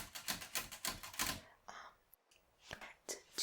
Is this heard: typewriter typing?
yes